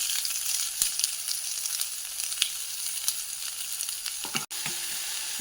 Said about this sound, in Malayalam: നമുക്ക് അരിഞ്ഞു വെച്ച സവാള ഇടാം.